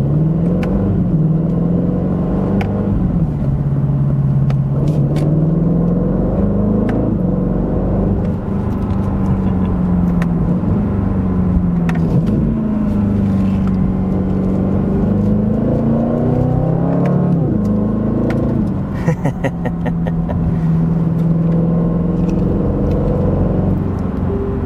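A 2025 Aston Martin Vantage engine in manual mode rumbles and revs up and down through aggressive downshifts, loud and close, with a sharp blip near the end.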